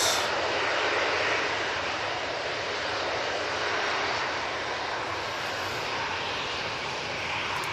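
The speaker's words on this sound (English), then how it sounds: "Got a Ryanair coming in from Paphos." A Ryanair airliner arriving at Manchester Airport from Paphos, heard as a broad, steady roar of aircraft engines that fades slightly as it passes, loud and continuous with no talking over it.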